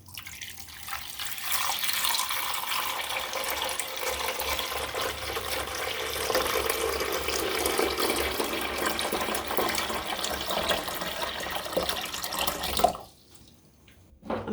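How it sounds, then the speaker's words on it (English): Water runs steadily into a FREEZIMER countertop ice maker's reservoir, filling it to the fill line; a continuous splashing pour holds for about thirteen seconds, then stops abruptly, leaving near silence. "first I'm going to begin by filling the water to the fill line"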